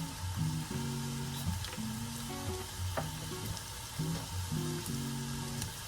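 Greens, zucchini, mushrooms, garlic and spring onion frying in a pan for a veggie frittata, giving a steady close sizzle with soft stirring scrapes throughout, no voices.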